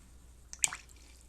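Water squeezed from a paintbrush during a watercolor wash drips in a brief, quiet cluster of two or three soft splashes, alone against a near-silent background.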